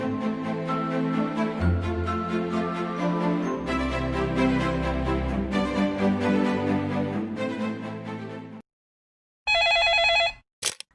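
A telephone rings in a care hospital ward, a long loud burst over a steady background, then a short silence and one more brief, bright ring at the end.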